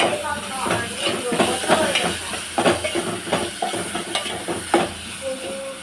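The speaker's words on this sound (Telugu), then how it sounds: "అలానే స్మెల్ కోసం అయితే 2 కరివేపాకు రెమ్మలు కూడా వేసుకొని మంచిగా మిక్స్ చేసుకోవాలి." Onions fry in a pan with salt and curry leaves while being stirred, giving a loud close sizzle with repeated spoon scrapes and clacks, and someone speaks throughout.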